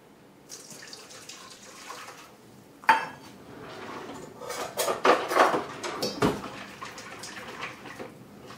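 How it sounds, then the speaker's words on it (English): Hot liquid poured into a bowl of gelatin for a low-carb poke cake, then stirred; a sharp clink near the start, followed by close splashing and the clatter of a utensil against the bowl, with no talking. "to this we're going to add 1 cup of hot liquid"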